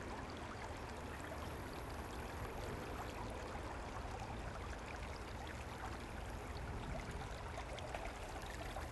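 Creek water flows steadily along a willow-lined bank at West Nose Creek in the Bow Valley, a continuous broad rushing wash that stays constant throughout with no voices.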